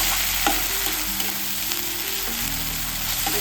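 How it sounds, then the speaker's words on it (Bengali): Ginger and garlic paste frying in hot oil gives a dense, continuous sizzle with soft stirring scrapes and occasional faint taps, close and steady with no talk. "এক চামচ আদা বাটা আর 1 চামচ রসুন বাটা দিয়ে দিচ্ছি। ভালো করে কষিয়ে"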